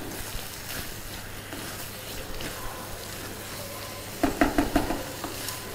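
A spoon stirs a cauliflower and egg curry in a pot after coriander has been added. A low, soft bubbling and sizzle runs throughout, and near the end come a few brief scraping clatters. There is no talk.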